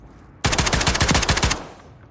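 A rapid burst of automatic gunfire in a free-for-all match of a video game shooter, about a dozen close, loud shots in steady rhythm lasting just over a second, then fading away.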